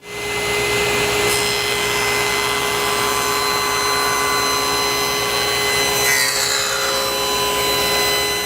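Saw running continuously through wood while making test cuts at a 38-degree angle for a spline miter joint on a steamer trunk, a loud steady whirring drone with a brief shift near the end.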